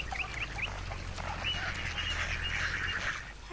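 Ducks quack in a park with trees in the video game Roundabout, a scatter of moderately loud bird calls over a steady low ambient hum.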